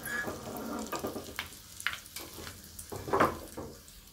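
Mustard seeds, chillies and asafoetida crackle and sizzle in hot oil, with a few brief bursts of spitting and some stirring noise; fairly quiet, no speech.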